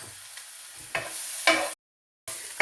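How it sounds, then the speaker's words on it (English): Blitzed onions sizzle in hot sesame oil for a satay curry, stirred in short scraping bursts with a steady frying hiss between, briefly cut to silence before the sizzling resumes. "I'm going to add the onions that we've blitzed, and I'm going to cook them down until they're a soft golden brown"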